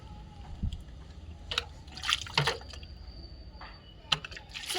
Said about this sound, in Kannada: ಸ್ವಲ್ಪ ನೀರು ಕೂಡ ಹಾಕೋಣ ಬನ್ನಿ ಗೈಸ್